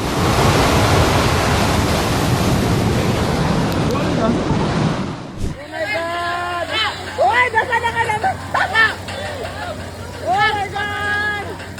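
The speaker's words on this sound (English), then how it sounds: "In San Sebastian, powerful waves turned the Paseo Nuevo seawall into a stage" Powerful ocean waves crash against the Paseo Nuevo seawall in San Sebastian, a loud, broad roar of surf and spray for about five seconds. The roar then drops away abruptly and excited voices follow.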